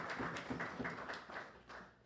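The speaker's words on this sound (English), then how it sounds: "we give him a special hand of applause" An awards-ceremony audience applauds a student, a faint, distant patter of many hands clapping in a loose, steady rhythm for about two seconds, with no talking over it.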